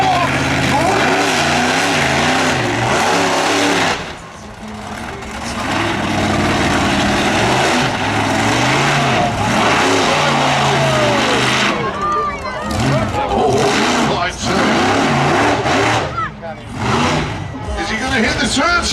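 A monster truck engine revs hard at launch during a UK national monster truck show, a loud roaring drone that rises and surges with crowd noise and an announcer talking over it.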